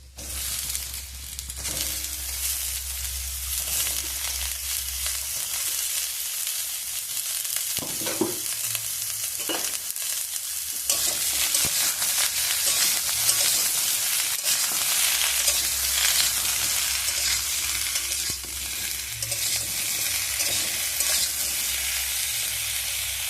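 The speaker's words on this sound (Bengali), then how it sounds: "বেগুনগুলো দিয়েও চাপা দিয়ে একটু বেগুনগুলোকে ভেজে নেব" Cut eggplant and half-cooked potatoes fry in oil in a pan for a home-style vegetarian curry, a steady crackling sizzle with stirring scrapes that swells louder partway through.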